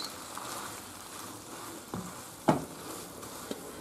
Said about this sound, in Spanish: ahora echamos los espaguetis. Y lo removemos.